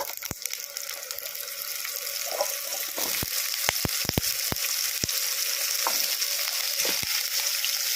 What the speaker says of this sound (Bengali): আলুগুলোকে ভালো করে এই তেলের মধ্যে নাড়াচাড়া করে নেব